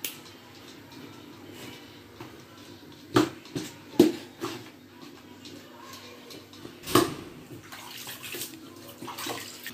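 Water is poured onto couscous grains to moisten them while steaming them for a dish, giving a soft, steady trickle with a few sharper splashes close by and no talk.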